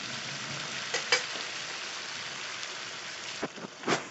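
Chicken and potato pieces frying in a pan for a Bengali chicken curry, a continuous soft sizzle with a few sharper spatters and stirring scrapes near the end, no voices.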